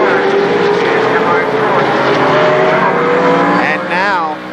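Stock race cars roar around Shadybowl Speedway, a loud continuous engine drone with shifting pitch as cars pass, under a race announcer's commentary.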